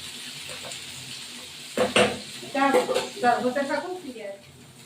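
Ivy gourd (kundri) fries with onion, turmeric and salt, a steady background sizzle broken by louder bursts of stirring and clattering of a utensil against the pan, with a voice speaking partway through.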